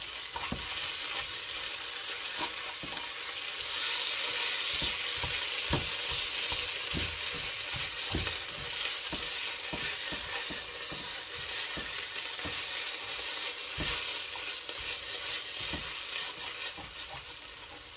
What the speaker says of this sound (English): Scrape all that fond off the bottom.